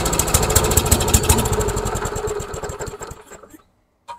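A worn, trashed lawnmower engine chugs in a fast, rough pulse close by, then sputters and dies away into silence before a short final knock.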